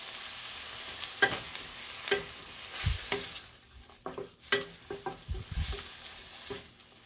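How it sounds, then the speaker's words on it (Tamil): Chopped tomato and onion sautéing in a pan for aloo and capsicum rice, with a steady sizzle broken by repeated clanks and scrapes of a spoon stirring close by. "நான் ஒரு தக்காளியை பொடியாக நறுக்கி வச்சுருக்கேன், இதை சேர்த்து இப்போ வதக்கிக்கிறேன்"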